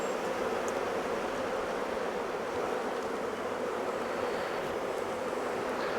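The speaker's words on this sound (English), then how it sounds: "I'll shake the bees off" Honeybees being shaken off frames from a Maisemore poly Commercial hive, a dense continuous buzzing swarm that stays close and steady throughout with no talk.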